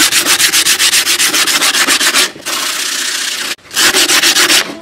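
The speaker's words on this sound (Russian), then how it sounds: "Если кирпич сухой, то наждачная хорошо берет." Sandpaper rubbing on dry red brick in quick rhythmic back-and-forth strokes, loud and close, pausing for a smoother continuous scrape before the strokes resume after a short break.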